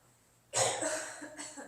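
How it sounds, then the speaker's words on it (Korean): A single close cough bursts out of near silence, trailing into a smaller second cough. "기침들이 갑자기 쳐나오고"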